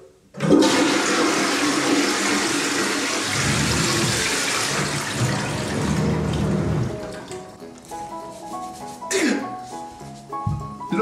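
A toilet flushes with a person's head held in the bowl: a loud rushing surge of water that roars for several seconds, then drains and gurgles away while people shout and talk over it.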